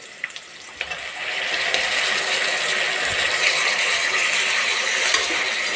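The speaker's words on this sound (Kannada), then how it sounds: "ಈಗ ನಾನು ಟೊಮೆಟೊನೂ ಸೇರಿಸ್ತಾ ಇದ್ದೀನಿ." Okra fries in a pan as tomato goes in, a steady loud sizzle that swells and then holds constant after a few light clinks at the start.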